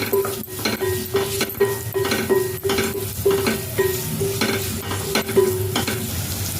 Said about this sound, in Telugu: ముక్కలు వేగిన తర్వాత చిన్న అల్లం, 5-6 ఎల్లుల్లిపాయ రేకులు వేసి వేపుకోవాలి.